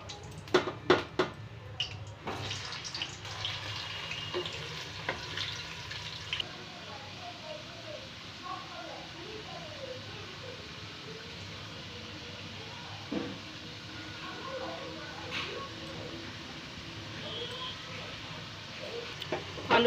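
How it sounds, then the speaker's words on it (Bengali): Potatoes fry in hot oil in a wok, making a faint, soft crackling and bubbling sizzle. The sound continues quietly at a low level beneath a few louder kitchen knocks. "এবার আমরা আলুগুলো ভেজে নেব।"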